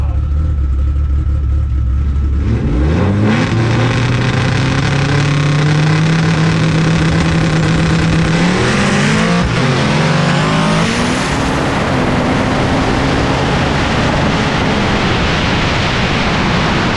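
Drag race cars revving for a test hit at Capitol Raceway, a loud engine roar that climbs in pitch, surges through a harsh peak and carries on as a dense, sustained blare.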